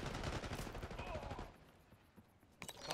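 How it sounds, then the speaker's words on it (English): Rapid automatic gunfire in the video game Call of Duty Black Ops 6, loud and dense for over a second, then dropping to quieter scattered shots before another close burst. "HVT is taking fire."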